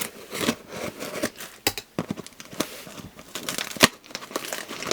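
Scissors snip through stickers, mixing sharp cutting clicks with papery crinkling and rustling, close and moderately loud in uneven bursts, with no talking.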